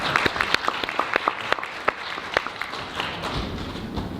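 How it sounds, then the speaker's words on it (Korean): Audience applause at a Seoul cloud computing conference as a Samsung Electronics presenter is welcomed to the stage: many sharp claps rising into steady clapping, then thinning out over a few seconds, moderately distant in a large hall. "여러분 큰 박수로 불러주시죠."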